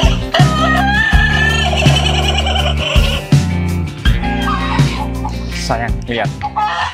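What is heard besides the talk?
chickens crowing and clucking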